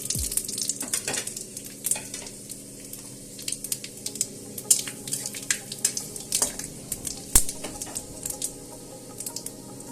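Panch phoron spices fry in hot oil with a steady close sizzle broken by frequent sharp pops and spatters, continuous and unaccompanied by voices.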